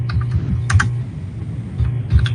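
Keys clatter on a computer keyboard in quick uneven bursts of typing, close and moderately loud over a low background hum.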